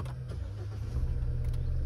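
A SsangYong Musso Grand SUV engine starts up, a steady low rumble that swells slightly as it catches and settles into a close idle.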